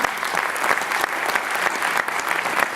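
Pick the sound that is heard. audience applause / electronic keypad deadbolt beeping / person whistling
audience applause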